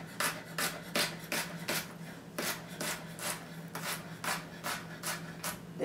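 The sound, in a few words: knife slicing round vegetable into uniform slices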